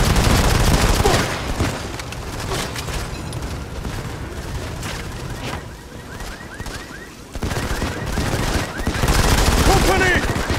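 Dense automatic gunfire and sustained bursts from a Modern Combat 5 story-mode firefight, loud and continuous with a brief lull midway before the shooting swells again; voices shout beneath the shots.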